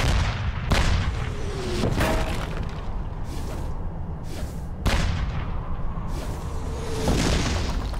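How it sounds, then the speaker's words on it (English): Battle scene of artillery and anti-tank guns firing, several loud booming blasts spaced a second or two apart over a constant rumbling din. "Under heavy fire, Wittmann quickly retreated"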